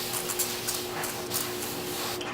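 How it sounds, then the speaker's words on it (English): Evian natural mineral water facial spray misting onto skin in a steady, fine hiss, close and fairly soft, with faint brief pulses and no talk. "the Evian natural mineral water facial spray"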